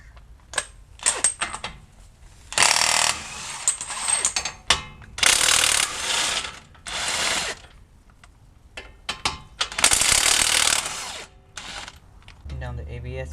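A ratchet wrench fitted with a 36 mm socket works on a 2008 Honda Odyssey, giving repeated bursts of rapid, loud clicking with short pauses between strokes, and a voice speaks briefly between the bursts.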